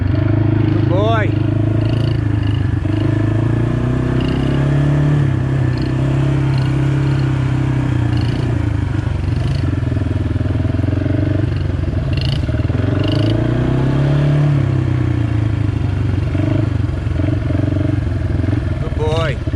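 A Yamaha TTR50 kids dirt bike engine buzzes steadily at close range, its pitch swelling and dropping as the small rider works the throttle, with an adult voice speaking over it.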